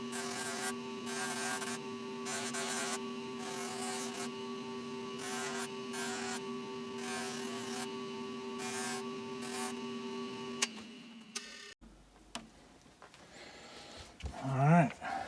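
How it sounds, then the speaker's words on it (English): A jeweler's rouge buffing wheel polishes the edges of a rifle butt plate for a Marlin 336. The machine gives a steady electric whine and hum that breaks off near the end into scattered handling noises. "put it on the Jeweler's Rouge wheel to shine the edges of the butt plate up"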